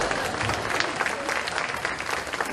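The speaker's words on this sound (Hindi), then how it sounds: "ताली तो बजा दें." An audience applauds at a 2013 evening poetry gathering in Hyderabad: dense, continuous clapping from many hands fills the whole moment, loud and close with no talking over it.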